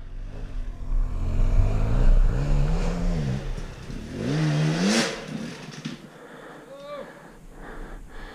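A two-stroke Husqvarna 250xc dirt bike on summer singletrack trails revs in rising and falling bursts, loud and close, then drops away as the rider moves off.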